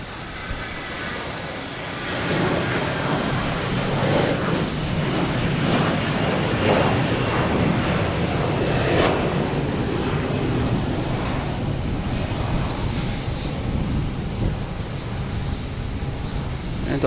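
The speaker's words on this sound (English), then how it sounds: "here's Delta taking off" A Delta Airbus A321 bound for Minneapolis takes off from Boston Logan with a loud, sustained jet roar that rises early and holds strong throughout, mixed with gusty wind noise on the microphone.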